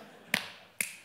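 Two sharp finger snaps, close and fairly quiet, spaced about half a second apart in a clap-snap rhythm game, with near silence between them.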